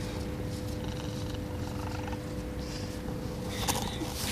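A kitten purrs close up in a steady low rumbling drone that continues evenly throughout, with faint rustling above it.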